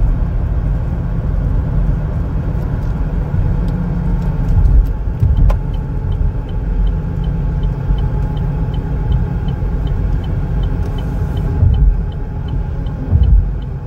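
A 2021 Chevrolet Equinox LT cruises along a road, heard from inside as a steady, loud low rumble of tire and engine noise with a few faint clicks, no talking.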